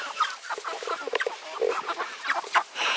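A chicken clucks in short, close, busy bursts, several quick calls overlapping in an irregular run with no talk.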